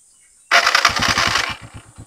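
A Honda TMX 125 motorcycle engine cranks and catches at close range, a loud burst of rapid rhythmic firing that settles into a steady idle within about a second.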